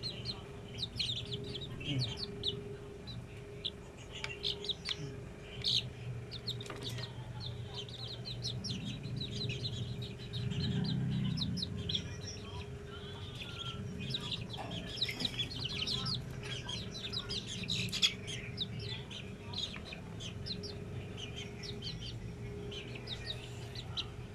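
One-month-old Melsim Black chicks chirp and peep in a busy, overlapping chorus, high and continuous, with a low hum and faint voices in the background.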